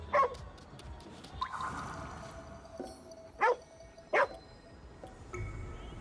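A dog in the Ghostwire Tokyo video game gives two short barks, spaced under a second apart, at moderate distance over a steady ambient game background.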